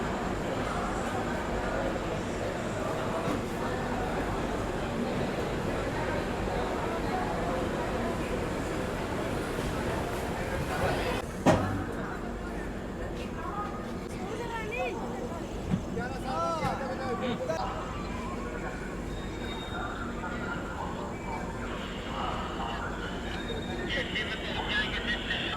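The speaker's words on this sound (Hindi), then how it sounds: "बस 5 मिनट का एक छोटा सा हॉल्ट लेने के बाद हमारी ट्रेन का यहाँ से फिर से प्रस्थान हो गया।" The Garib Rath Express, an LHB passenger train, runs along the track after leaving Kanpur, a steady rumbling roar of wheels and carriage noise heard from inside, with occasional clanks.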